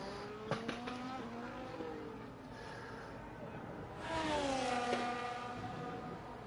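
A Formula 1 car in a sim-racing league video game drives the Dutch Grand Prix circuit with DRS open, its high engine note rising and falling through gear changes, faint under the broadcast sound.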